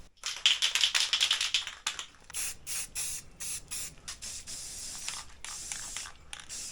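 Aerosol spray paint hisses in repeated close bursts onto offroad trailer suspension parts, a rapid rattling run of short sprays followed by longer steady hissing passes, loud and with no talking.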